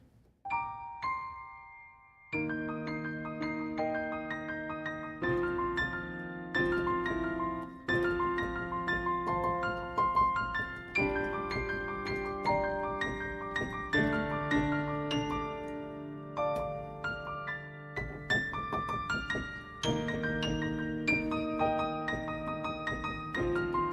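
A slow piano passage from a piano arrangement of a song: unhurried notes and chords ring out one after another, each sustained and overlapping, played alone at a moderate volume.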